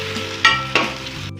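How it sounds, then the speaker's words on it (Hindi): Taro root (arvi) frying in a pan, stirred with a spoon, giving a steady close sizzle with two sharp scraping stirs, all without any voices. "चम्मच इसमें चलाते रहें ताकि ये एक ही साइड से जलना ना शुरू हो जाए"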